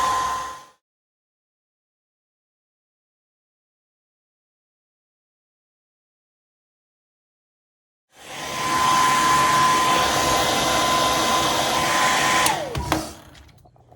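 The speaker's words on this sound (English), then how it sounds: "So I just have a standard blow dryer. I have it on the hottest setting." A hair dryer on its hottest setting blows with a steady roaring whoosh, cutting off briefly into silence, then running again loudly for several seconds before switching off.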